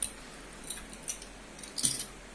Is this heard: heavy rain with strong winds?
no